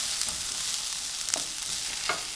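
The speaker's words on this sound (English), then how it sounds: "The onions are nice and caramelized right now." Onions caramelizing in a pan, a dense continuous hiss of frying with a few soft stirring scrapes, close and steady with no voices.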